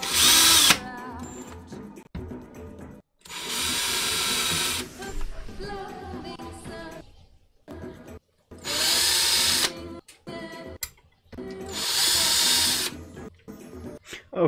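A power drill drives screws into boards held to a plate, with four loud whirring bursts of a few seconds each, separated by pauses and handling clatter.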